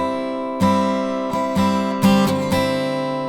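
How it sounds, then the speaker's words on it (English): Acoustic guitar melody picked with the pinky and ring finger over a sustained G-area chord, a handful of plucked notes in an uneven rhythm ringing together, clear and close with no talking. "we're going to play a melody with our pinky and our ring finger"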